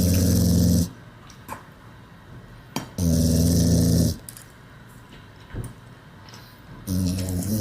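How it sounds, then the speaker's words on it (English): A dog begs with a loud, rasping, snore-like snort. Three long harsh bursts, each about a second, are separated by quieter breathing and small clicks. The dog is close to the mic and no one talks. "This is how she begs. She's physically making that sound."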